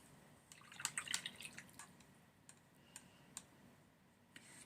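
Gold ink flicks and splashes onto paper in a quiet room, a brief cluster of soft dripping ticks followed by a few isolated faint spatters.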